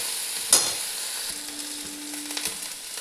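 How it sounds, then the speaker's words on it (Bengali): Ginger garlic paste sizzles in hot oil with browned fried onions, a steady close crackle with a sharp clink of the spoon and light stirring scrapes. "এরপরে আমি দিয়ে দিচ্ছি একদম একটু আদা রসুনের পেস্ট।"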